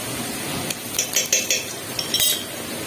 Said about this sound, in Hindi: अब आप देख सकते हैं, हम प्याज और लहसुन अदरक के पेस्ट को भून रहे हैं।